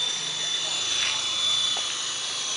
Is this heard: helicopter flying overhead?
yes